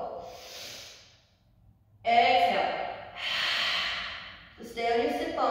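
Audible breaths during a yoga forward fold, an inhale and a long exhale repeating in slow rhythm, close and soft, with a brief pause between them.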